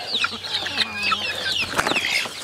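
Chickens cluck and chatter continuously at close range while pecking at reject melon, lemon and honeydew scattered on a farm, with overlapping squawks and calls and no talk.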